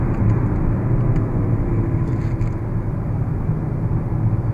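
Peugeot 5008 GT Line with the 1.6 THP 165 engine and automatic gearbox accelerating, heard from inside as a loud, steady engine and road roar that holds throughout without talk.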